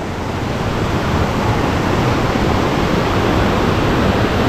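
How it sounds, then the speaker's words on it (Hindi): Water rushing at Langvoku Waterfall in Karbi Anglong, Assam, a loud, steady broadband roar with no breaks, close by and drowning out everything else. "ओहो पानी का आवाज बहुत अच्छा आ रहा"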